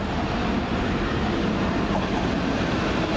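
A Class 185 TransPennine Express diesel train, a delayed Middlesbrough to Manchester Airport service, rumbles loudly and steadily past at Huddersfield station, a dense, close wash of rolling wheel and engine noise.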